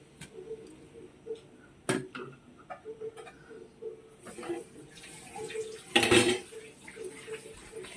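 Sour greens and their stems dropped into water in a kitchen, with faint splashes, light clinks of pots and utensils, and a clearer splash and clatter near the end.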